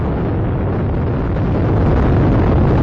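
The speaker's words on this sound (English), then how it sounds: "liftoff of Space Shuttle Atlantis as Columbus sets sail on a voyage of science to the space station" Space Shuttle Atlantis lifting off from Florida on the STS-122 mission, a loud, continuous, dense rocket-engine roar with steady broadband rumble that fills the whole span without a break.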